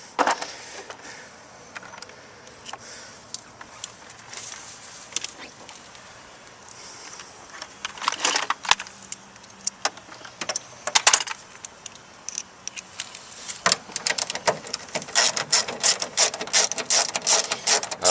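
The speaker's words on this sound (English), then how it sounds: "We have, looks like 4 8mm bolts, which we're going to remove." Four 8mm bolts are removed from the front speaker of a Kia Forte with a ratchet, giving close, rapid metallic clicking and ratcheting bursts with short pauses, plus faint clinks of handled metal.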